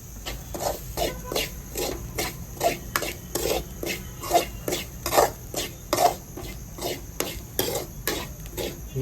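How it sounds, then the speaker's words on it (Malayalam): Dry grated coconut stirred steadily in a pan with no oil, for Kerala bitter gourd theeyal, giving a continuous rhythmic scraping and rustling close up, with a quiet sizzle underneath. "ഇങ്ങനെ തേങ്ങ വിടാതെ ഇളക്കിക്കൊണ്ടിരിക്കണം, അല്ലെങ്കിൽ അടിക്ക് പിടിച്ച് കരിഞ്ഞു പോകില്ല"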